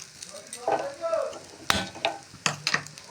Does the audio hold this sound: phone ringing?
no